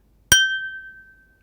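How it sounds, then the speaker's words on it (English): A single sharp metallic strike from an autoharp, the clapper hitting the instrument's structure, rings out, leaving a clear high tone that slowly fades over about a second. "the strike tone, which is actually the sound of the clapper hitting the physical structure of the instrument"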